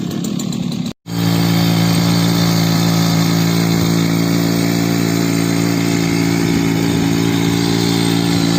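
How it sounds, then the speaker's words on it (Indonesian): A Matsumoto floating water pump engine runs loud and steady while watering a shallot field, a close, continuous buzzing drone with a strong hum that holds after a brief cut near the start. "Ini proses penyiraman yang kita pakai untuk saat ini, menggunakan pompa apung"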